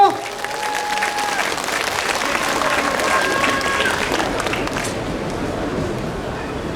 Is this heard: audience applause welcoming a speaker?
yes